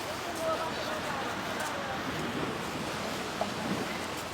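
Sea waves at Shatti Al Qurum beach wash steadily as broad, continuous surf with some wind rumble on the microphone, close and fairly loud throughout.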